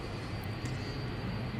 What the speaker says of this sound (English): There's a plane arriving.